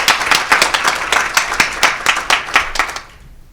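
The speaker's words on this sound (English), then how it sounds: "So we should give them a big applause." Audience at a data conference session clapping: a small group's individual claps ring out close and distinct for about three seconds, then stop abruptly.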